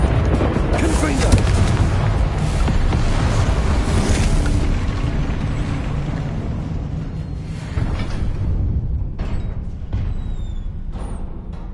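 A Confringo spell blast in Hogwarts Legacy, a loud rumbling explosion that booms at the start and slowly decays, with further combat effects and a spoken spell name over it.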